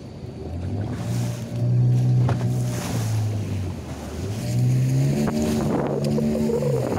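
Big ocean waves at Pangandaran beach rush and wash in a broad roar that swells twice, with a droning motor tone rising and falling underneath.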